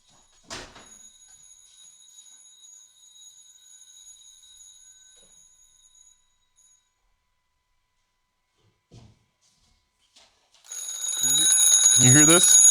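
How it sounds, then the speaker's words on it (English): An old cartoon-style twin-bell alarm clock with a striker hammering big bells rings sharply for a few seconds, then goes quiet apart from faint shuffling, before a louder burst of ringing with a voice talking over it. "I got one of those old, like, cartoon style alarm clocks where the thing hits the big bells"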